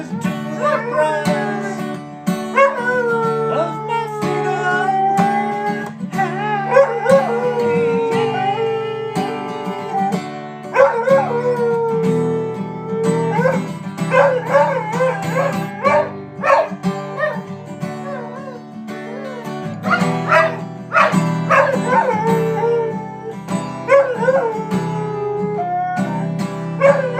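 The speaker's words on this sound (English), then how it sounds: "Dog can sing like the Dickens." A dog howls and sings along to guitar and a human singing voice, its wavering, sliding howls weaving through the music for the whole stretch, loud and close.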